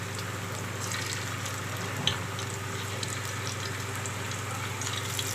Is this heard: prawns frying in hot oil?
yes